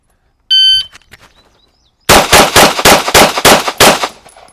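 Shot timer beeps once, then after a pause a pistol drawn from a holster fires about seven loud, rapid shots in quick succession at close range on an outdoor range.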